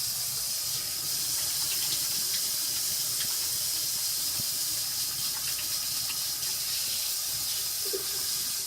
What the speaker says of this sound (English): And I'm going to rinse my hands again.